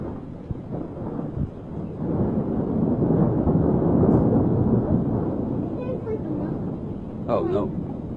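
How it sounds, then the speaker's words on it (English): Thunder rumbles in a long, low roll during a thunderstorm, swelling and fading over several seconds at a moderate distance, with faint voices of people nearby. "What do you think he's doing up there making that thunder?"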